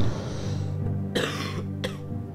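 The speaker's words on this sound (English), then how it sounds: "Pardon the cough." A single person's cough, with a short throat-clearing burst at the start and a second brief cough a moment later, close and fairly loud against a quiet indoor background.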